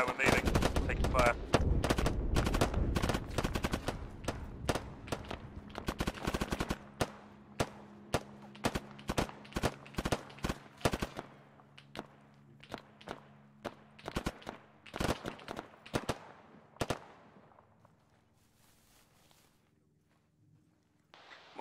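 Bursts of rifle and machine-gun fire crack out during an infantry assault on a hill, dense and overlapping at first, then thinning into scattered single shots and short bursts that fade toward the end.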